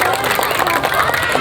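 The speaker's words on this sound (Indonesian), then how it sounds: "Boleh tepuk tangan yang meriah buat sang juara kita." Crowd applause for the champions at a village football tournament final: dense, steady clapping from a large crowd, loud and close throughout with no gaps.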